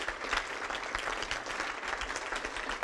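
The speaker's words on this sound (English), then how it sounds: "So I just want to do a quick round of applause for all the volunteers." Audience at a PMI Chicagoland leadership forum applauding volunteers, a steady, fairly dense wash of clapping that holds at even loudness for the full stretch without any talk over it.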